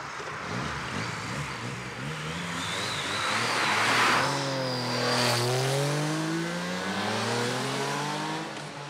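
Car speeding past at about 115 km/h in a 50 km/h zone on a seafront road in the Alpes-Maritimes, a rising engine roar and tire hiss that swells and then falls away in pitch as it passes.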